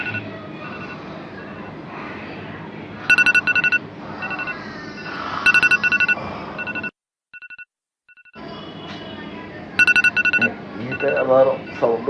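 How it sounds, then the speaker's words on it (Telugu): An alarm clock rings in short repeating bursts of bright electronic beeps over a steady background hum and clatter, stopping briefly and then resuming, with someone talking. "alarm sound"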